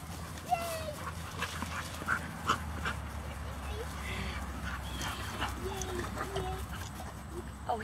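A small black dog makes several faint whimpers and short yips over a steady outdoor background, with voices talking at points.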